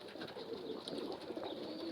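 Pet pigeons coo softly in the background of an outdoor rooftop loft, faint and continuous under steady street and wind noise, with a few scattered brighter calls.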